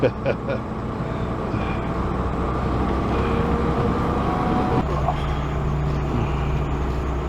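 A fire engine is driven, its low engine drone and road rumble running steadily throughout, with a shift in tone partway through, under occasional talk.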